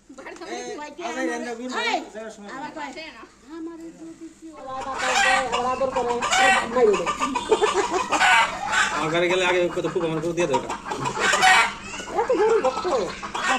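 Chickens clucking and squawking nearby in a busy rural setting, repeated calls that grow louder, heard with people talking over them.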